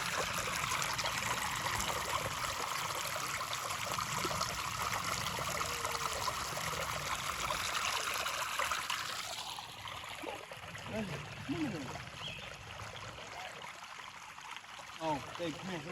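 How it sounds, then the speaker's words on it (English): Water trickles steadily in a small stream near a pond, a soft continuous babble that drops away partway through, leaving quieter outdoor ambience behind. "I'm hearing water down here."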